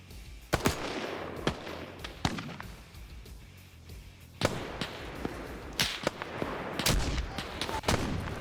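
Johnson rifle shots in a military video game crack out as sharp, separate reports at irregular intervals, some near and loud, others fainter, over a low background hiss.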